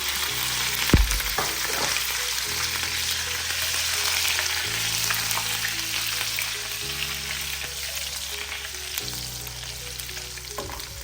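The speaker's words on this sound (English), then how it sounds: "Fry those as well. And at the same time, I'm going to add the green chillies now." Green chillies and cumin seeds fry in hot oil for a dal tempering, a loud, steady sizzle close up with a stirring clank near the start and a low cooker hum beneath.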